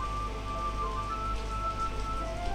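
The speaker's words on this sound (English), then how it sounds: "The rain of my side is very audible now." Rain falls steadily outside, a soft continuous hiss with a low rumble beneath, fairly quiet and unbroken, without any talking.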